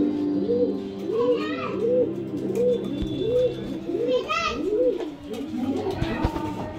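Pigeons coo repeatedly in a rhythmic series of soft, rolling calls at a bird sale in Bangalore, with children's voices and chatter in the background.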